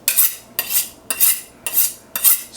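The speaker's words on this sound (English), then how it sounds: "Get the knife out." A kitchen knife is pulled out from among metal cutlery while salsa is made, giving five evenly spaced, bright metallic scrapes and rattles close by, with no talking.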